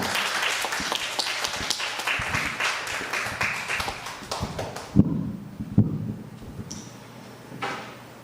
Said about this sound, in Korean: 우리 이한용 선교사님 앞으로 나오실 때 우리 큰 박수로 맞이하도록 하겠습니다